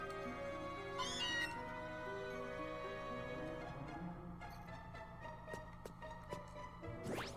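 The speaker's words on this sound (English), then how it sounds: "Also, Meowth again." Meowth's game cry from Pokemon Let's Go Pikachu, a short synthesized meow rising over steady background music, repeated once more near the end.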